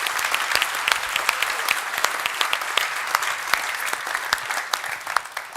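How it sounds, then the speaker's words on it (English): Audience at a LibertyCon Europe conference applauding the event volunteers, a dense, sustained round of clapping from a sizeable crowd, steady and fairly loud throughout. "Let's just give them a round of applause for the work they put here."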